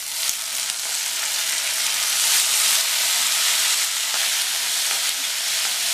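Tomatoes and onions sautéing in a pan for okra sambar, a steady close sizzle and fry hiss that holds level throughout with no talking.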